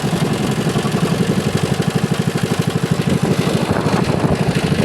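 A motorcycle engine idles nearby with a loud, even thumping beat and light mechanical clatter, holding steady for several seconds with no voices over it.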